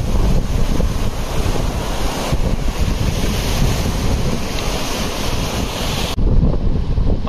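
Rushing mountain waterfall stream crossing the trail on the Gangotri to Gaumukh trek in the Himalayas, a loud, steady roar of churning water close by with wind buffeting the microphone, no voices.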